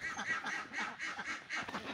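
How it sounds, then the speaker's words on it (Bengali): Farm ducks quack in a steady, overlapping chorus as the flock comes up out of the pond for feed, nearby and fairly loud throughout, with no talking. "হাঁসগুলো সব উপরে উঠে আসছে"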